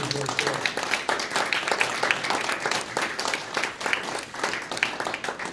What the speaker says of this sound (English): let's give a big round of applause and pay tribute to Dr. George Serra